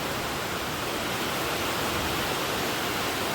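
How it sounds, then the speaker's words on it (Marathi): Monsoon rain in Chiplun falls as a dense, unbroken hiss that stays steady and even from start to finish, with no other sounds. "सध्या पाऊस मीडियम आहे"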